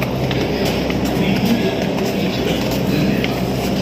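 Steady rumbling and rattling inside a moving Delhi Metro carriage from Kashmere Gate toward Ballabhgarh, a constant low roar with faint clicks and no talk.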